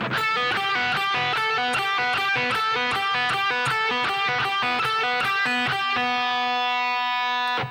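A distorted electric guitar plays a quick, rhythmic phrase of repeated picked notes from a song's solo, ending on a held, ringing note.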